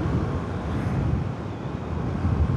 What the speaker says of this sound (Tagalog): Ayan, may hangin na ulit.